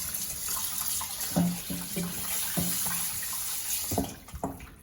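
Tap water runs into a pot being filled to the brim to rinse pork bones for bak kut teh, a steady close splashing stream with a few knocks and clinks of the pot and no talk.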